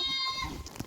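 Goats that have broken out of their pen through a downed fence on a small farm bleat up close, one bleating call stretching through most of the moment before fading into scattered softer noise.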